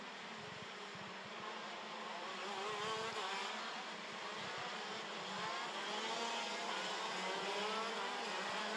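Shifter racing karts on a formation lap produce a steady, moderately distant engine drone that swells slightly without letting up, with no sharp passes standing out.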